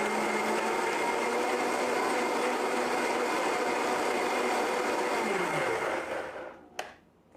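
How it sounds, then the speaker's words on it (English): A blender running steadily on sweet potato and medjool dates, a loud continuous whir that holds smooth without clunks, then winds down and stops, followed by a short click near the end. "Just going to blend these until everything's nice and processed."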